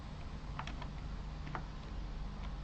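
Typing on a computer keyboard: a handful of light, quick key clicks in short irregular bursts, close and fairly quiet over a steady background hum.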